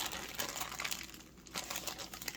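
A Sun-Maid golden raisins bag is folded shut with air pressed out, giving a steady close-up plastic crinkling that rustles continuously with a few sharper crackles and a brief lull midway.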